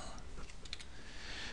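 Keystrokes on a computer keyboard, a few quick faint clicks in a cluster entering a word into math software, over low room hum with no speech.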